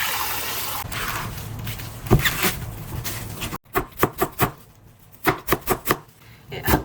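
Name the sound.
finely julienning ingredients with a knife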